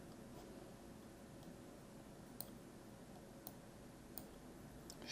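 A few sharp, faint computer mouse clicks, four or so spaced about a second apart, sit over a quiet room hiss while someone works through a streaming alert setup in Microsoft Fabric.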